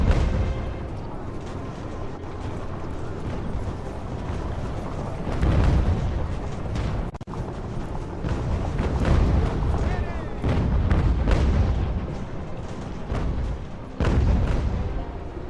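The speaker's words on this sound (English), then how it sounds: "Mortars are amazing." Mortar fire and heavy booms roll through a battle in Ultimate General: American Revolution, a British campaign clash, with repeated loud blasts over a dense, continuous din of battlefield noise.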